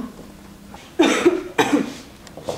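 Two sharp, close coughs about half a second apart, followed by a faint third, over quiet room noise.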